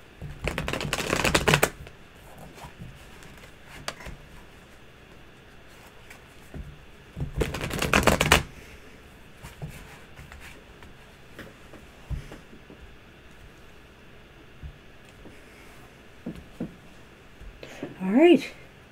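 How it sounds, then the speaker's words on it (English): Tarot cards being shuffled in two brisk, loud bursts of riffling separated by several seconds of quieter handling and low talk. "Now I know I shuffle these cards."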